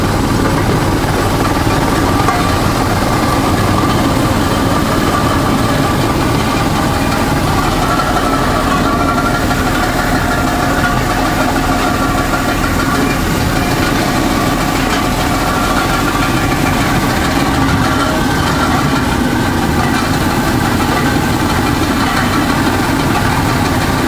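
A draisine rolling along a narrow-gauge railway line at Mezinovka runs its engine continuously, a loud, steady, rumbling drone with a vibrating knock that never lets up.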